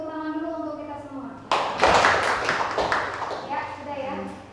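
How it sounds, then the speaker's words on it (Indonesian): Classroom applause from a group of students, a burst of many hands clapping that swells suddenly and then fades, following a teacher's talk and under some voices. "tepuk tangan dulu untuk kita semua"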